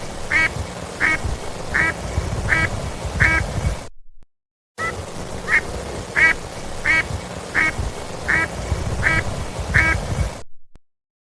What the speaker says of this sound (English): A duck made this sound.